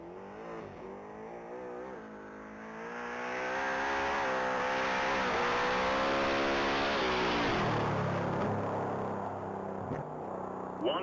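A 1967 Ford Mustang GT 500 race car rated at 2,500 horsepower launches hard from the start line at a top-speed mile event. The engine roars loud and close, rising steadily in pitch as it accelerates and holding a sustained, heavy note.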